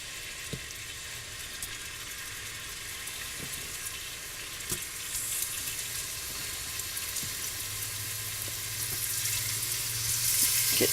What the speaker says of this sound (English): I will start adding my meat. Sizzle, sizzle, fry,